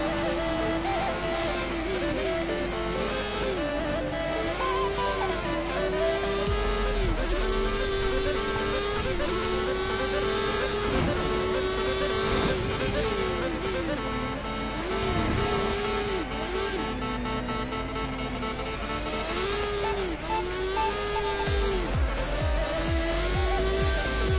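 A race car engine screams down the straight in a racing video game set at the China circuit, its pitch climbing and dropping through gear changes in a continuous loud drone, with tyre noise and occasional low thumps.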